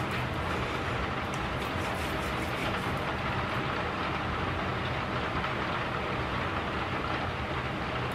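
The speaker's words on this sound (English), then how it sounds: "I like the sound of rain." Steady rain drums on a car's sunroof, a dense unbroken patter heard from inside the vehicle, even and moderately loud for the whole stretch with no talking.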